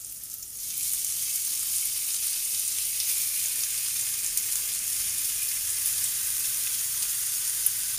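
Seasoned meat and chopped onion fry in a pan with a loud, continuous hiss and sizzle that never lets up.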